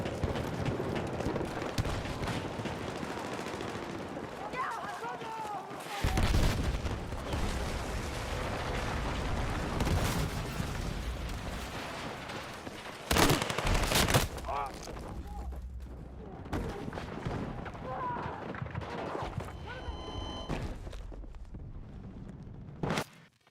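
Full-auto gunfire in Battlefield 6 comes in loud, rapid bursts separated by quieter stretches, with someone talking between the volleys.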